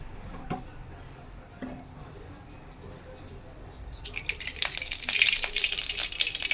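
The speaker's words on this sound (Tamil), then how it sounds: "எண்ணெய் கொஞ்சமாக சேர்த்துக்கிறேன். அதோட சோம்பும் சீரகமும் கொஞ்சம் சேர்த்துக்கிறேன். நல்லா பொரியட்டும்." Fennel and cumin seeds are dropped into oil in a kadai, which breaks into a bright crackling sizzle partway through after quieter clinks, close and steady, with faint talk in the background.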